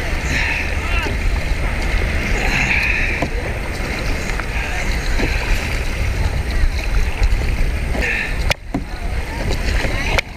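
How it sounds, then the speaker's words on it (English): A kayak paddled through seawater at a beach, with a steady wash of water and wind noise and rhythmic paddle strokes, while voices talk over it. "Paddling on the left side."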